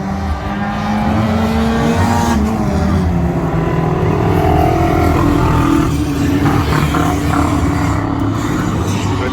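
Banger racing cars on the Crimond Raceway oval roar and rev loudly and continuously, engines rising and falling as one spins and reverses, with a dense, close, unbroken racing din throughout.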